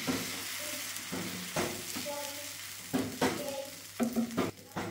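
Dosa batter hisses and sizzles on a hot oiled pan as it is spread, with soft scraping strokes and a few clinks of utensils, fairly quiet and close with no talk.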